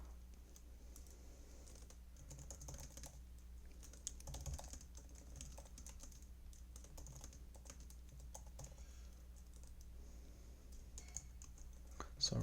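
Someone types code on a computer keyboard while writing a first PyTorch model, a soft, steady run of key clicks that continues quietly for the whole stretch with no talking.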